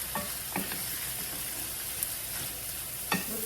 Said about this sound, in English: Stir fry green pork meat first.